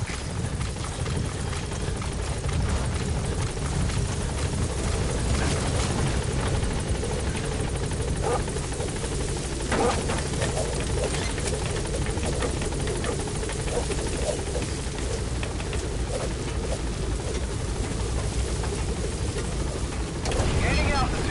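A helicopter in the Metal Gear video game takes off, its loud rotor thump and engine roar filling the whole stretch steadily and close, with a brief surge near the end.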